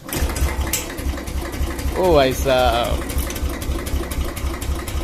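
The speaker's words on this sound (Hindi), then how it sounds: "पहली किक में स्टार्ट" A seven-year-old Royal Enfield Classic 350 with about 27,500 km on it is kicked and fires up on the first kick, its single-cylinder engine thumping in a fast steady pulse while a man exclaims over it.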